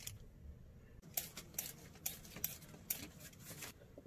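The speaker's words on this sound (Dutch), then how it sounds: "En dan rasp ik hem schoon met een schraper." A carrot being scraped clean with a kitchen scraper, a series of short, quiet rasping strokes at close range in an otherwise quiet room, roughly five or six scrapes in a loose rhythm.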